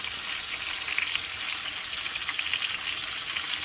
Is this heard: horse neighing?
no